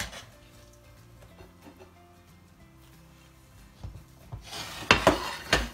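Chicken biryani is scooped from a pressure cooker onto a plate, with faint scraping at first and then louder metal spoon clatters and scrapes against the cooker near the end, over quiet background music.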